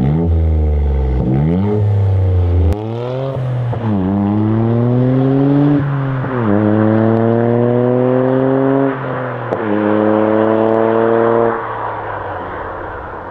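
A Toyota GR Yaris with a straight-through custom catback exhaust from the GPF back revs repeatedly, pitch climbing and falling in several strong bursts with a deep, raspy note, loud and close, no voices.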